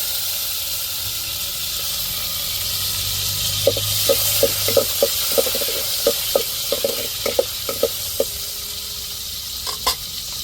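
Mustard seeds, urad dal and small shallots frying in hot oil as a rasam tempering, a steady close sizzle and hiss with scattered sharp pops and crackles through the middle and end.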